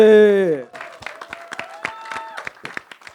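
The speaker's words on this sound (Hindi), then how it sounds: "ज़रीन खान के लिए जोरदार तालियां हो जाए" Loud applause and cheering for actress Zareen Khan on the Bigg Boss 9 television show stage, following a host's sung or held vocal, with sharp claps and crowd noise continuing for a few seconds.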